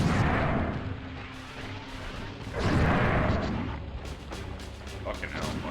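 Deep rumbling blasts from bombs going off in the MediEvil video game swell and fade in heavy waves, a broad low roar with crackling debris, while a person talks over them.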